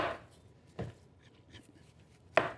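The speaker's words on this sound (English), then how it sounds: "I'm going to chop up my onion" Onion being chopped with a knife for elk chili: two distinct knife strikes on a board, spaced apart, fairly close and moderately loud, with quiet kitchen room tone between them and no talking.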